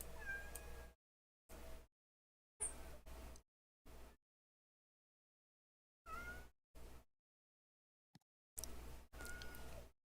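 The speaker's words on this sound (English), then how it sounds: "Quit meowing at me, Chrissy." A cat meows repeatedly in short separate bursts with silent gaps between them, fairly close and clear, with no talk over the calls.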